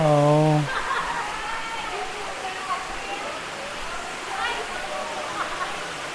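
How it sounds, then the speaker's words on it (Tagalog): Lobcon Falls in Cortes, Surigao del Sur, gives off a steady, moderate rush of falling water close by, continuous throughout, while a voice speaks briefly at the start over it. "ito na yung Lobcon Falls"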